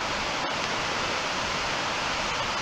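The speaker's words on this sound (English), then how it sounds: "It's kind of like a man-made waterfall kind of thing on the other side of the concrete spill out." Man-made waterfall spilling over a concrete spillway in a state park, a steady broadband roar of rushing water close by, continuous and unbroken throughout.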